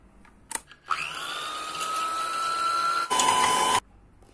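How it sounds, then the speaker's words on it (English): An electric hand beater whisks egg whites for a mocha cake, a steady motor whine running for about three seconds after a brief start, then rising louder near the end before cutting off. "let's beat the egg whites with a beater."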